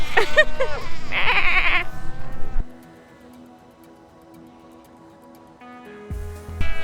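A chorus of bleating, sheep-like calls from a colony of seals, loud and overlapping at first, then a steady lower drone with a few calls returning at the end.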